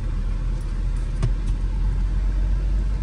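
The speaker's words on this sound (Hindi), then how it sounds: "मामी गाड़ी चला रही है, थोड़ा सा रेस दे के दूजा गियर लगाओ ना सर" A car engine drones steadily at close range, a continuous motor hum with little change in pitch, while the driver revs lightly before shifting into second gear.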